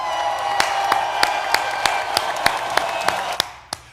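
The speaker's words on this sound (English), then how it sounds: "Urban Outfitters, clap for them, y'all." An audience claps at a talk show, with a run of sharp, evenly spaced claps over a low murmuring crowd that fade out near the end.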